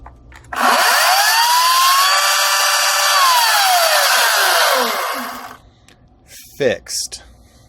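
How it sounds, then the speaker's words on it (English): An Echo 58V battery-powered chainsaw with a CBP-58V40 lithium-ion battery runs loud and close, spinning up with a steady high whine for about five seconds before winding down, followed by a few brief knocks and handling sounds. "I'm going to drop it in the saw and see if the saw now works"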